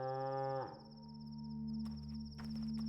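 A cow in the video game Pathologic 2 gives one short low moo at the start, then a quiet ambient hum with faint high ringing tones continues alone.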